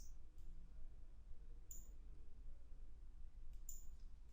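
Sharp, faint computer mouse clicks come in two quick pairs, well apart, over a steady low hum with no talking.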